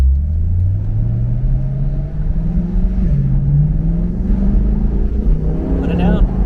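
A C8 Corvette accelerates hard, its engine note climbing steadily in pitch, dipping briefly at a shift, then rising again, loud and close from inside the car, with people talking over it.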